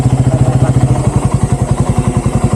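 Motorcycle engine idling at a campsite, a loud close rapid thumping pulse repeating evenly throughout, alone without talk.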